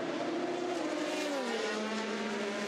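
Le Mans GTE Pro race cars, a Ford and a Ferrari running nose to tail, hold a loud continuous engine drone with a slight pitch sweep as they pass, steady throughout with no voices.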